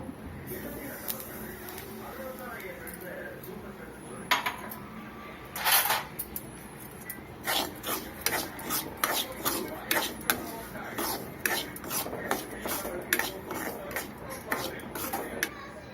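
Semolina (rava) roasts on low heat in a pan for sweet rava upma while a utensil stirs it, making a soft dry sizzle broken by repeated scraping and clinking strokes against the pan.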